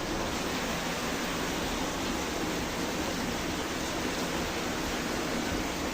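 Flood water flowing through a street, a constant broad rushing wash that stays steady and unbroken throughout, with no voices.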